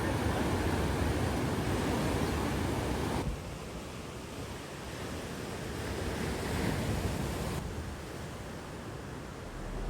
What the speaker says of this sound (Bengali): উত্তাল ঢেউগুলো আছড়ে পড়ছে কালো পাথরের গায়ে